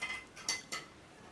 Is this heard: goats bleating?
no